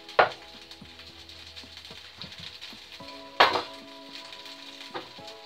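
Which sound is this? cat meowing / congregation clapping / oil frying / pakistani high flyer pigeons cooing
oil frying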